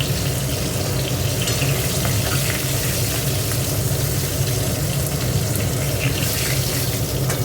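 Pieces of katla fish fry in oil, making a loud, dense sizzle that holds steady and close the whole time with no talk.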